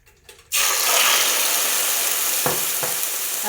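Raw liver hits an already smoking hot pan and a loud, steady sizzle instantly erupts, holding a dense continuous hiss with a couple of faint clinks as the pieces are spaced out to sear.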